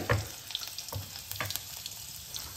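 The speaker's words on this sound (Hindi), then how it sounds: "फिर कढ़ाई और ऑयल गरम होने के बाद हम इसमें डाल देंगे चॉप्ड चिलीज" Chopped green chillies fry in hot oil in a kadai, a soft steady sizzle with a few faint stirring clicks and taps, close and quiet, with no talk.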